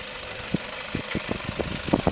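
Pickup truck rolling slowly down a steep slope, its engine giving a low steady idle-like rumble with soft irregular knocks and thumps, fairly close, with no talk.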